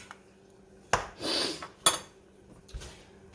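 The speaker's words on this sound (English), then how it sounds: "Give it a good stir. Mix all the sugar and the cinnamon and the nutmeg up together." Dry sugar, cinnamon and nutmeg being stirred for a blackberry cobbler, heard as a few separate clinks and scrapes of a utensil against a bowl, with quiet gaps between them.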